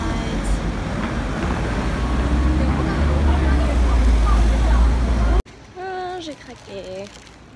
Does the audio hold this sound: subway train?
yes